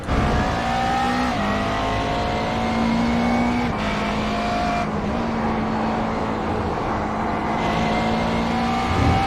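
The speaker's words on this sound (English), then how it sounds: "see what a lap looks like in this Lowenbra McLaren" A Lowenbrau McLaren race car in a racing video game laps NJMP Thunderbolt, its engine droning loud and continuous with pitch rising and dropping through gear changes and corners.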